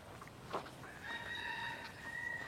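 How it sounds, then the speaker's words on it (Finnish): A rooster crows once, a long drawn-out call rising after a few short clucks, heard from some distance in a quiet, peaceful residential valley. "Ja kuka kiekuu."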